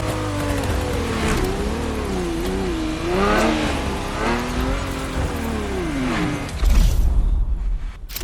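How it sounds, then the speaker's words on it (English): A Ferrari F40 engine revving in The Crew Motorfest video game, rising and falling through several gear-like sweeps, with a louder rough burst near the end. "The Ferrari F40. Enzo Ferrari's ultimate vision."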